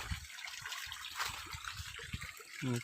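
Water flowing strongly through a channel in a rice farm field, a continuous rushing and gurgling wash with splashy bursts, fairly close but quiet in level, with no talk.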